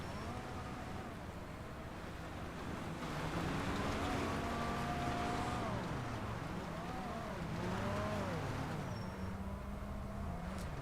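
AI car traffic drives through snow in a driving video game, with several engine tones rising and falling as cars speed up and slow down, layered over a steady road rumble and heard at a moderate distance.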